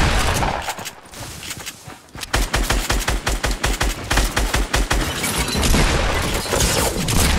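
Rapid automatic gunfire in the battle royale game Fortnite, with a quieter start giving way to a loud, sustained stream of evenly spaced shots that keeps going to the end.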